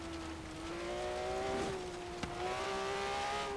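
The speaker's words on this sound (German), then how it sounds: "Ist aber das Sound, glaube ich, aus dem alten GT3 eher ist, ne?" Porsche GT3 RS engine in the racing game Forza Horizon 3 holds a steady, fairly faint revving drone, its pitch sweeping up and back with a brief sharp click midway, and no voices over it.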